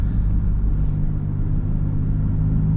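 A 2024 Maserati MC20 Cielo supercar's engine rumbles low and steady from close by, holding a deep, even drone without a sharp rev spike.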